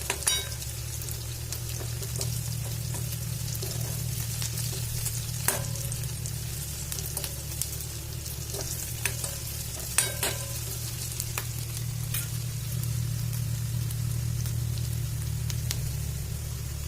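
Onions frying in a pan for stuffed bitter gourd, a steady close sizzle with occasional stirring clicks and scrapes running throughout without voices.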